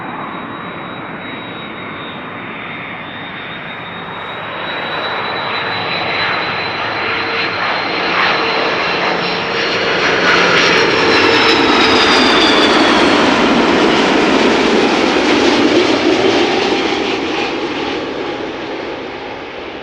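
United Airlines flight 21, a jet airliner, passes with a loud, steady engine roar that swells toward the middle and holds, with a whining tone sliding over the rumble.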